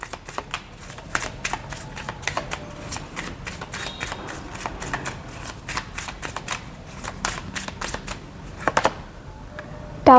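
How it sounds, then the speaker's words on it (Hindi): Tarot cards are shuffled and drawn by hand in repeated crisp riffling and slapping bursts, close and dry, with a short sharper rustle at the very end. "तो चलिए ये कार्ड्स मैं निकालती हूँ"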